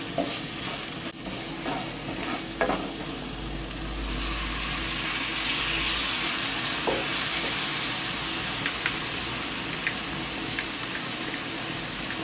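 Chopped tomatoes with red chili powder, turmeric, garam masala and salt sautéing for a cauliflower masala curry, giving a steady close sizzle with occasional stirring scrapes throughout, no voices.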